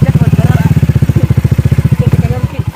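A motorcycle engine putters close by in a fast, even rhythm of pulses, loud and steady, with a faint clatter.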